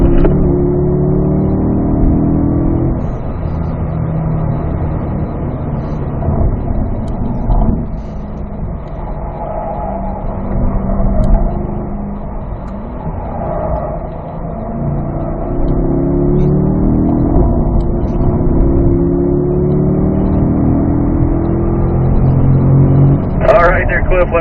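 A car engine droning and revving through laps on the Spring Mountain North Course track, continuous and loud with rising and falling pitch sweeps, while an instructor talks over it.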